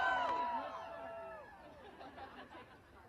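At a socialist rally in Washington DC, a large crowd chatters with mingled voices and some laughter, a steady murmur of people talking that eases off slightly over a few seconds.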